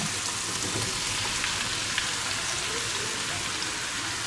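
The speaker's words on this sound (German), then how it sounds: "Jetzt unsere Zwiebel jetzt hart gebraten und da kommt jetzt mein Fleisch rein." Beef going into a pan of hard-fried onions, a dense steady sizzle and crackle of frying meat, close and even throughout with no talking.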